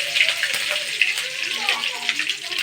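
Mustard seeds and curry leaves frying in a few spoons of hot oil in a pan, giving a steady, close crackling sizzle with small pops throughout.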